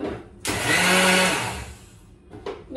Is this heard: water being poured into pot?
no